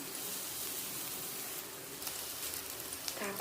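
Raw green chilies frying in a hot pan give a steady, close sizzle with fine crackling throughout, and a few faint knocks toward the end.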